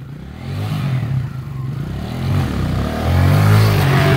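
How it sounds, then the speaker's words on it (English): A dirt bike engine revs high and loud and close, the drone rising and holding in steady surges with no talk over it. "Rev it out real high."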